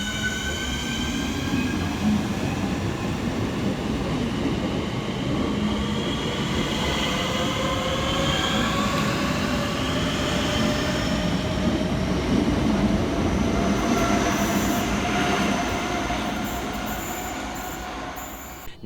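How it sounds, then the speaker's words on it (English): Southeastern Class 465 electric units 465037 and 465046 on the Hayes line at Hayes, a sustained loud rumble of the train moving with wheel squeal and rising tonal motor whine, no voices. "kicking us off will be 465037 and 465046, working the 1355 Southeastern service from Hayes through to London Charing Cross"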